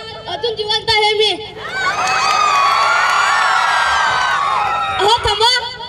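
A crowd of school children shouts and cheers loudly and continuously in a comedy skit, with people speaking before and after the long burst of noise.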